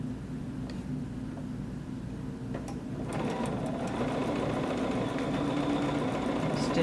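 Sewing machine running steadily while stitching through a quilt sandwich of fabric and batting for a quilt-as-you-go table runner, a continuous mechanical hum that starts softer and grows louder and fuller after a few seconds, with no talking.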